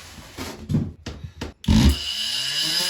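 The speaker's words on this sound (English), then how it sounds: "the oscillating tool is the best choice for a cut like this" An oscillating multi-tool cuts bathroom baseboard trim in a few short buzzing bursts, then settles into a steadier, louder run. The tool is close and there is no talking.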